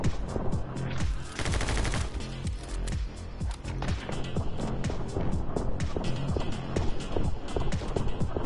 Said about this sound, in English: This is a shooting.